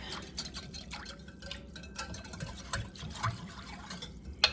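Meatballs being stirred in sauce: soft, faint wet sloshing and squelching with light clicks of a utensil against the pot, close and quiet with no talk.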